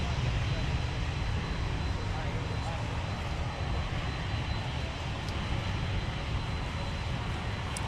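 An aircraft departs at Minneapolis–Saint Paul airport, a steady broadband engine roar heard from a distance and sustained throughout, with a faint voice murmuring beneath it.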